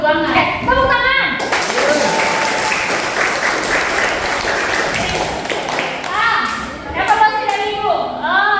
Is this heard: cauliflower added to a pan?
no